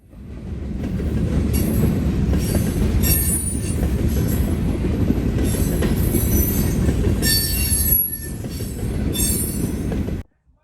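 A freight train led by an SD50 and two Union Pacific SD60M locomotives rolls past close by, loud rumbling wheels with squealing and clatter that stays steady before cutting off abruptly at the end.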